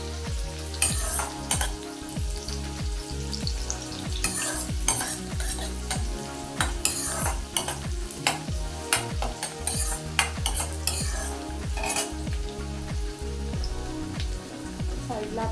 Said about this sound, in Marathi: कांदा तेलावर छान परतवून घ्यायचा आहे.